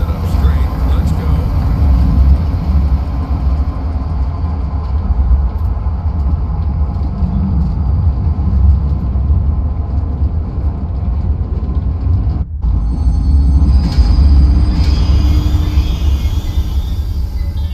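Train running on rails in the video game Zoochosis, a steady low rumble and rattle that carries on throughout, with a brief dropout near the middle, under a person talking.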